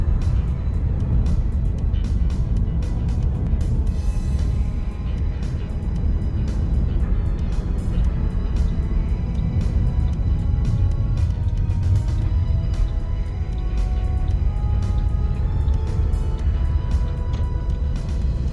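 A car drives steadily through a roundabout on a rural route toward Panmure Island, its low engine and road rumble continuous and fairly loud from inside the cabin, with no voices.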